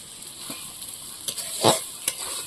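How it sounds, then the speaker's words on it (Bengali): Paneer and spice paste sautéing in a pan, a low steady sizzle with a few soft scrapes of stirring near the end, no voices. "মশলাটা পনিরের সঙ্গে ভালো করে কষিয়ে নিয়েছি দেখুন"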